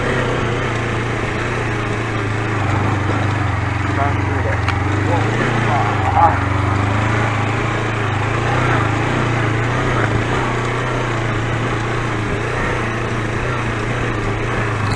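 A motor vehicle engine labours up a steep dirt path after a pike fishing trip, a steady loud drone that holds throughout with a low hum, with no clear talk over it.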